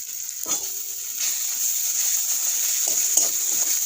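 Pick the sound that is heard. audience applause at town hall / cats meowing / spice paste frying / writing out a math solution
spice paste frying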